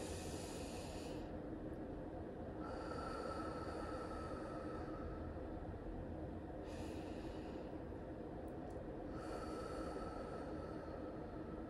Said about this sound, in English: Two more deep breaths.